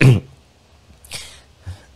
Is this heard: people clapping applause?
no